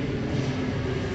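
Steady broadband roar of an airplane passing close overhead, loud and continuous with a low engine rumble throughout.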